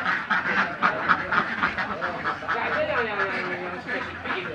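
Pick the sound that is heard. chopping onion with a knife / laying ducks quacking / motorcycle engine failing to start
laying ducks quacking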